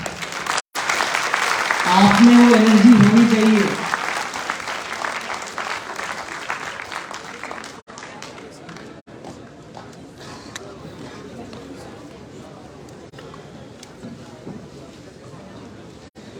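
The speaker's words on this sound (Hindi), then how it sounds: "तालियों की आवाज" A crowd claps during a medal ceremony at university woodball games, first under a loud speaking voice and then a lighter, steady patter that goes on at a lower level.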